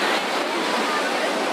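Sea waves breaking at the beach at Digha, a continuous broadband wash of surf heard close and fairly loud for a brief moment.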